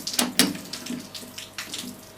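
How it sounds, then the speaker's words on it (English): Water drips and splashes outside in quick irregular drops, close and fairly loud, over a faint steady background hum. "Apologies for the dripping water you can hear outside."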